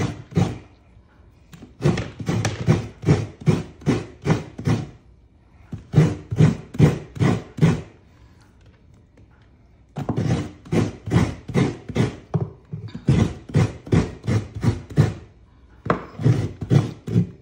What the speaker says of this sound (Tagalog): Kaya nga martilyo daw eh, sabi. Martilyuhin mo.